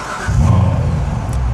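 A Chevrolet Corvette C7 Stingray engine rises from a low idle into a loud, deep rev close by, holding a throaty rumble without any talk.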